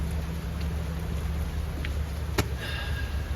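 Steady rain falls outdoors beside a trailer, a broad continuous hiss with a low rumble underneath and a few sharp drip clicks.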